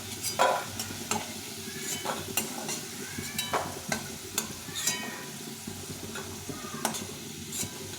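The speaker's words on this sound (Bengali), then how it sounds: "একদম লাল করে আলুটা ভেজে নিয়েছি" Potatoes frying in oil in a pan, a steady soft sizzle under repeated scraping and stirring strokes from a utensil, close and moderately quiet with no talking.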